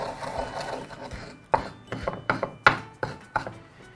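Garlic being pounded and ground in a mortar, close and moderately loud, with irregular sharp knocks and scraping strokes in a loose rhythm, no talking.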